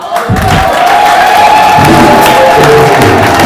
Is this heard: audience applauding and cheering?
yes